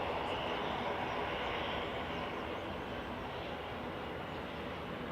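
A Ryanair jet lining up at Manchester Airport fills the air with a steady, broad engine roar that eases slightly as it holds.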